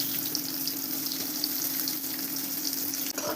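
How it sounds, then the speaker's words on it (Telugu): Onions fry in hot oil with a steady, dense sizzle close to the pan, broken by faint stirring sounds. A short scrape comes near the end. "నూనె బాగా వేడయ్యాక అందులోకి ఎర్రగడ్డలను వేసుకోవాలి."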